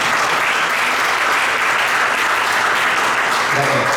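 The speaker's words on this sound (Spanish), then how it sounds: "vamos a recibirlo con fuertes palmas para esta festividad académica." Steady, dense applause from an audience at an academic event fills the clip, loud and continuous without pause.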